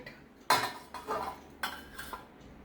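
A metal spoon scrapes and clinks against a flat pan while scooping soaked sabudana, with four or five distinct sharp knocks and scrapes spaced apart, close and fairly quiet.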